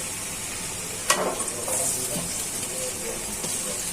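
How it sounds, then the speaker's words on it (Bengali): Chopped onion hits hot oil in a kadai while desi chicken curry with jackfruit seeds is being started, giving a sudden close crackle that settles into a steady hiss. "তেলটা গরম হয়ে গেছে, পেঁয়াজটা দিয়ে দিচ্ছি।"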